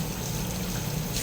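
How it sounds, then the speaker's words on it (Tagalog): Hot water gushes steadily from a multi-point water heater that is being repaired, a loud, close, continuous rush of pouring water with no talking. "Palabasin muna natin mainit na tubig."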